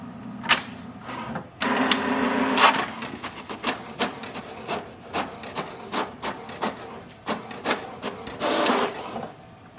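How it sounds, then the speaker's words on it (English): An HP DeskJet 4275e inkjet printer prints an information page: a whirring start followed by a steady, rhythmic series of sharp mechanical clacks and carriage rubs, close and alone. "To print the password, press information button once."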